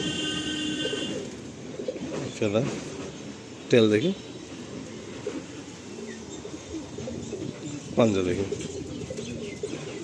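A black Andhra pigeon coos in three distinct bursts while being handled and inspected, close and clear, with someone talking throughout.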